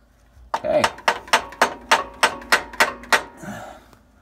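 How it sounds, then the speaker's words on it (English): A socket is hammered to drive a new transmission filter seal into place, about nine sharp, evenly spaced metallic knocks, close and loud, with a short voice at the end. "We took the socket and we drove the new one in"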